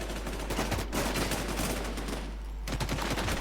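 Rapid automatic gunfire in the survival shooter WarZ rattles in dense bursts with one brief pause, loud and continuous.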